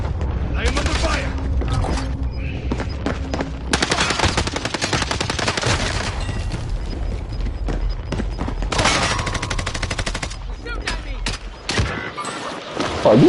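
Rapid, loud gunfire in the video game Warzone, with dense machine-gun bursts and heavy shots hammering almost continuously for the whole stretch, close and overlapping, with brief dips between volleys.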